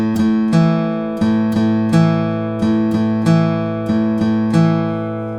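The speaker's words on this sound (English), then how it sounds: "2 downs on the 5th string and 1 up on the 4th string" Guitar plays a pre-chorus riff alone, picked in a repeating down-down-up pattern across the fifth and fourth strings, with crisp evenly spaced attacks in a steady loop, close and clear.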